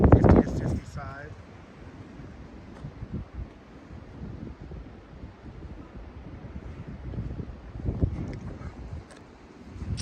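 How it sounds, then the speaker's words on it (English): Strong gusty south and southeasterly winds ahead of thunderstorms roar and buffet the microphone, swelling loudly at the start and end with steadier rushing between. "crazy south and southeastern winds right now"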